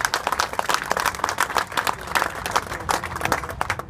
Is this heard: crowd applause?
yes